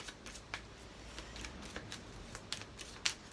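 Tarot cards are shuffled and riffled close up in a steady run of soft papery flicks, with a few sharper snaps near the end and no voices.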